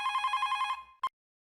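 An electronic telephone rings in a rapid trilling burst, breaks off, then gives one short final chirp before silence.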